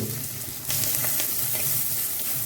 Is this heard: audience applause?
no